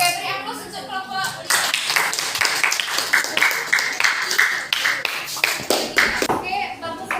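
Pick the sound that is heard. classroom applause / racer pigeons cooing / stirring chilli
classroom applause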